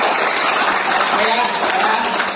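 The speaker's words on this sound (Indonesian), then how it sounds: "Berikan tepuk tangan dulu" A school class claps together indoors, loud and dense continuous applause filling the room for a couple of seconds.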